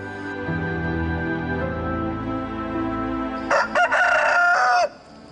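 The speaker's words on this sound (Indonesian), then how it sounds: "Kokok apaan tuh?" A rooster crows loudly and clearly near the end, a single drawn-out cock-a-doodle-doo rising over a busy backdrop of steady background sound from earlier on, in an Indonesian legend drama setting.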